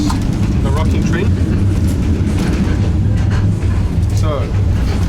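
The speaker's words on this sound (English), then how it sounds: "The rocking train." Steady low rumble and rattle of a rocking train carriage riding the rails in Vietnam, loud and continuous, with a few faint voices in the background.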